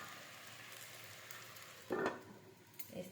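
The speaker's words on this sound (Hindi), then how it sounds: "तो देखिए ये अच्छे से भून रहा है" Karmata bhaji greens frying in a pan, a soft steady sizzle at low level, with a brief louder stir or scrape partway through and another near the end.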